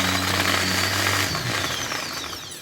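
A water purifier (RO) pump motor fitted with a drill machine armature, run as a 220 V generator under load, giving a loud continuous motor whine with a steady low hum that slowly winds down in pitch.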